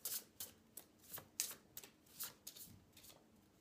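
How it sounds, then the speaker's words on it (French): A Light Divine Angels oracle card deck is shuffled by hand, about a dozen crisp riffling bursts in an uneven rhythm, close and clear with no voices. "je vais tirer une carte des Light Divine Angels"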